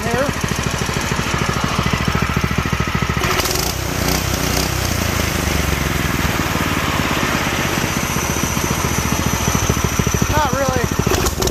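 A Predator 212 single-cylinder engine of about 6.5 horsepower runs on a small go-kart, a loud close rapid chugging putter that holds steady with brief revs, and someone talks over it.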